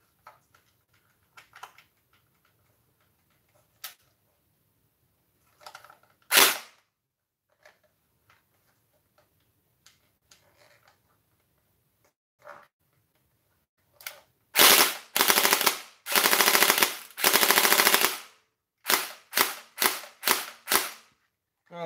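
A toy blaster under repair fired in single-fire mode: quiet clicks and handling, then one sharp shot, followed by a run of loud, punchy single shots fired in quick succession, each clearly separate, with no talking.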